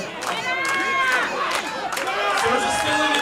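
Wrestling crowd at a dog collar match cheering and shouting continuously, a loud roaring mass of voices with individual yells rising above the din throughout.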